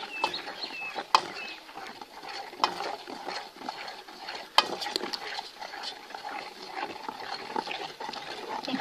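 Cooked sorrel leaves (pulicha keerai) being mashed in a pot, a quiet continuous squelching and scraping churn with a few sharp knocks of the masher against the vessel, close up, with no talk.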